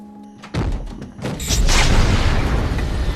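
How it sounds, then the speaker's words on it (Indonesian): Film explosion of a gas cylinder trap set inside a house: a sudden heavy boom after a brief quiet, then a loud rumbling blast with debris crashing that swells and carries on to the end. "orang yang mengejar James meledak di dalam rumah itu."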